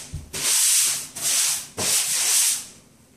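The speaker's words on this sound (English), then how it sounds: "Just like sanding." Drywall joint compound is sanded by hand with 200 grit sandpaper, giving two long, close, loud rasping strokes, each a steady scratchy rub with a short pause between.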